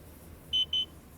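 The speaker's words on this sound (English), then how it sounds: "So the bounce test, it beeps at you." Two short electronic beeps in quick succession from an Ames laser bounce test device, high-pitched and clear over a quiet background.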